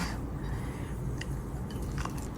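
Soft, close crunching and chewing of crispy fried chicken, with a few sharper bites over a low steady background hum; no talking.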